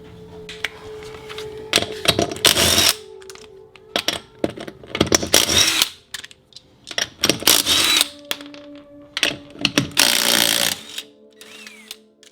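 Tools work the wheel off a GMC Typhoon during a front brake job, fastened with stainless bolts: repeated bursts of loud, close rattling and clicking in uneven clusters, separated by short quieter gaps with a faint steady hum underneath.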